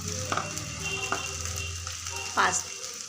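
Pasta sizzling in a frying pan as sauce is added, with a steady low sizzle and a few sharp clinks and scrapes of stirring, the loudest near the end.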